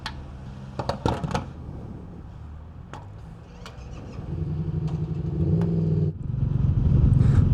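A Royal Enfield Meteor 350 cruiser motorcycle fitted with handlebar risers rides along. Its steady single-cylinder engine drone builds as it accelerates, with brief clicks and knocks early on and no talking.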